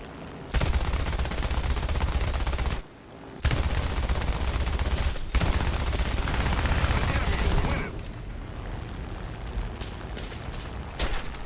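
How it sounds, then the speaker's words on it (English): Aircraft guns in War Thunder air battles: long sustained bursts of dense, roaring cannon fire, briefly cut off once and then resumed, easing into quieter engine drone toward the end. "I can try to shoot at this person"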